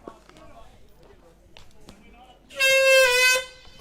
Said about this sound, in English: With probably the worst sounding air horn ever.